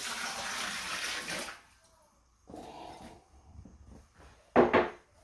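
Four cups of water poured onto a thin lightweight backpacking towel: a loud steady splashing pour for about a second and a half, then quieter dripping and soaking, with a brief sharp splash near the end.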